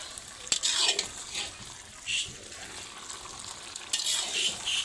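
Chicken frying in spices in a home kitchen pan, with soft bursts of sizzling as the meat is stirred and scraped now and then. The sound is close, fairly quiet and uneven.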